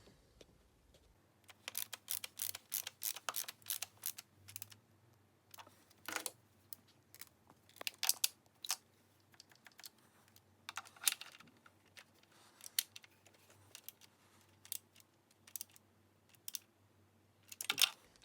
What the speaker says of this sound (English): So I'm going to start tightening the bolts in a crisscross pattern.